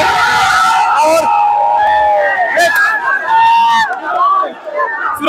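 Large, noisy crowd pressing around a politician, a loud close babble of many overlapping voices with shouts rising and falling, and nearby people talking over it.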